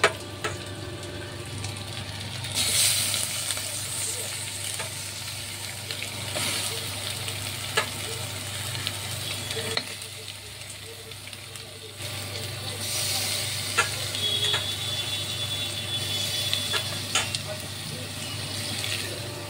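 Chicken sizzling in a pan with ginger garlic paste, a steady close frying hiss with occasional stirring scrapes and clinks throughout, a faint voice at times beneath.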